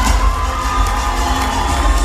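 An award-ceremony audience in Rwanda cheers and claps loudly, a dense, sustained crowd roar with shouting that fills the whole moment.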